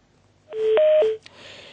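Telephone line tones as a phone connection drops: a short sequence of loud, steady electronic beeps at different pitches, then a click and faint hiss.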